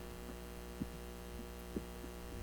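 A steady electric fan runs close to the microphone as a constant hum with a few soft thumps, and no one speaks.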